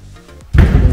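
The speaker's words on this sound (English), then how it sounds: "Let me close the door." A room door in a shared student apartment swings shut with one sudden, loud, close thump about halfway through, followed by a short rumbling after-sound. Before it there is only near-silence.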